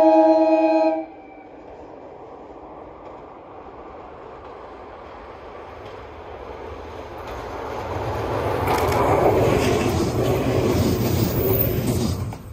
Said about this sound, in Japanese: 警笛を鳴らしながら通過をしました。